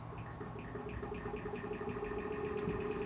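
A sealless water pump motor on a work trailer, used for fracking and run dry at a low frequency setting, turns slowly with a faint, steady mechanical whir and a thin high whine.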